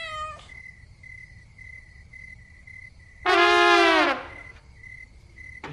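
A cat gives one loud, drawn-out meow close by partway through, with a steady insect-like chirping tone running through the quiet background.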